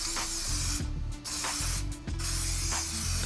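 Short hissing bursts from an aerosol spray can painting the brake shield of a 1965 Fastback, two quick close blasts separated by a pause, with faint mechanical clicks between them.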